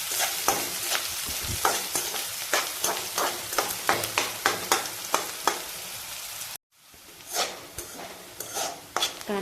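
Onions frying in a pan for ridge gourd vegetable, with rhythmic spatula stirs scraping over a constant close sizzle and a brief break before stirring resumes.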